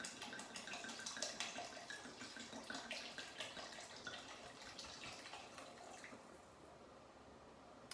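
Cabernet Sauvignon red wine glugging from the bottle into a pot of Bolognese sauce, a faint, close, continuous pour with rhythmic gurgles that tapers off toward the end.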